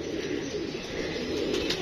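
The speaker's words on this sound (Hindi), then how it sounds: "जाल में बड़ा कबूतर है लेकिन वो अभी चढ़ना नहीं है" Pigeons coo in a net enclosure holding a big pigeon, a continuous close, low throaty cooing with no voices over it.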